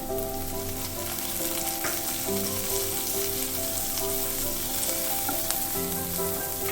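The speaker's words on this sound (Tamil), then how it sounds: "இப்போ பச்சை மிளகாய் போட்டுக்கிறேன்." Green chillies hit lightly softened onions in a pan over medium heat for cabbage poriyal, producing a steady, close sizzle with a soft background hum and occasional faint stirring touches.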